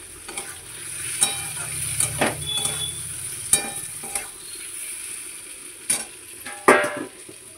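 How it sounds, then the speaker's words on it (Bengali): Chopped tomatoes go into a pan of fried onions for a chicken dish, giving a steady soft sizzle under repeated sharp scrapes and clatters of a spoon stirring against the pan, close and moderately loud. "এবার আমি টমেটোগুলো দিয়ে দেবো"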